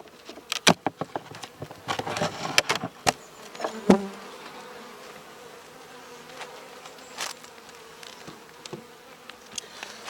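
Honeybees buzzing close by in a small colony with a drone-laying queen, a steady hum broken by sharp clicks and knocks in the first few seconds, then quieter droning.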